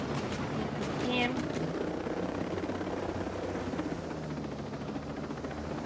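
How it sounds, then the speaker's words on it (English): Helicopter in the video game Ghost Recon Breakpoint, a steady loud rotor drone filling the whole stretch, with people talking over it. "So now take down his chopper."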